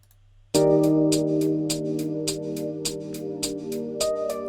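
Two closed hi-hats layered together tick in a fast, even chugging pattern, bright crisp hits repeating steadily over a held synth chord after a brief quiet start, with no talking.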